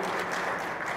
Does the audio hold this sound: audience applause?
yes